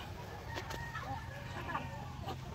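Chickens cluck now and then around a farmyard, with faint crowing-like calls, over a steady low background hum.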